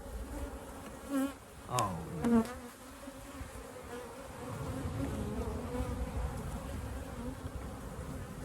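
Honeybees buzz steadily at a hive during an inspection, a dense drone that swells and persists throughout, with a few louder passes of individual bees close by and a brief spoken exclamation early on.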